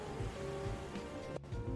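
Soft, continuous wash of ocean waves at a Hawaii beach, a steady rushing surf with faint wind, moderately distant and calm, with no talking.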